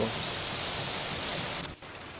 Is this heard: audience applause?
no